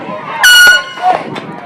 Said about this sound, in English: And with the air horn, you see the umpire is shutting that down.